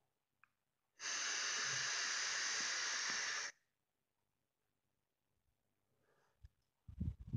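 Vapour hiss from a Digiflavor Themis vape turned up to 46 watts: one loud, steady breathy rush lasting about two and a half seconds, followed by quiet and a few soft knocks near the end.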